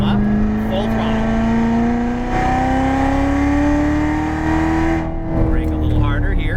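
Chevrolet Corvette C7 engine pulling hard at full throttle on a racetrack, a loud steady rising drone throughout, with a brief dip near the end under a driving instructor's talk.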